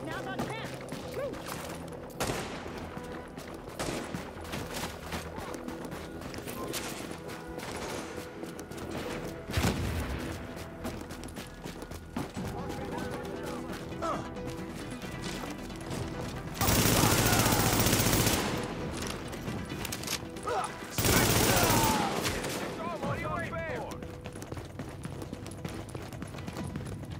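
Gunfire in the Division 1.8 video game, Resistance mode: a mostly steady game soundscape with bursts of loud, dense shooting around the middle, and voices talking through parts of it.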